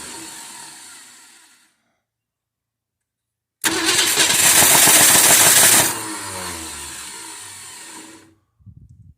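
A 1960s Ford Fairlane, abandoned for 35 years, cranks and then catches with a loud, rough roar, revving unevenly for a few seconds before settling into a ragged idle, preceded by a fading noise and a pause of silence.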